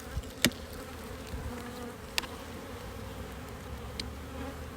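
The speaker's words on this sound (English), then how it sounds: "the bees are very active. This is a very strong hive." A steady, dense hum of many honeybees in a strong, very active open hive fills the air, with a few sharp clicks and knocks breaking through; no one speaks.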